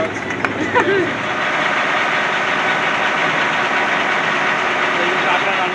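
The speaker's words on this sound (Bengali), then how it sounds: "আরও একটা বোট চলে গেছে, প্যাসেঞ্জার বোট দিয়ে দিচ্ছে" A passenger boat's engine drones steadily as it passes on a Sundarbans waterway, a continuous mid-pitched hum with faint knocking, while people talk nearby.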